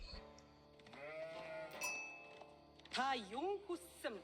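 Sheep bleating in the real-time strategy game Age of Empires 4, several wavering bleats rising and falling in the second half, fairly clear over game sounds and background.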